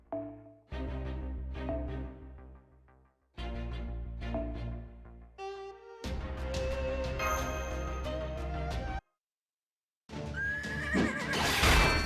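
A game horse in Fate/Grand Order gives loud, repeated whinnies with clip-clopping hooves, set against a busy layered musical backdrop that cuts out briefly before resuming.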